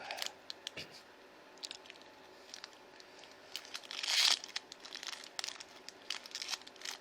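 Yu-Gi-Oh Mega 10 card pack wrapper being crinkled and torn open, a soft run of crackling plastic rustles with one louder tearing burst midway, close and fairly quiet.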